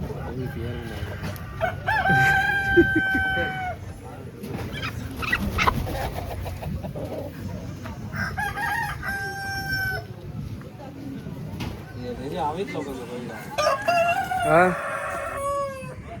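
Several chickens cluck and a rooster crows repeatedly, close by, amid a busy background of voices and other animal noise at Karatu market in Africa.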